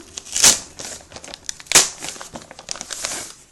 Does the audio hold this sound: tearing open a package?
yes